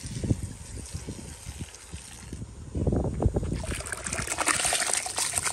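Rice rinsed with water in a bowl, close sloshing and trickling with irregular splashes, quieter at first and then swelling into busier, louder swirling of water midway through.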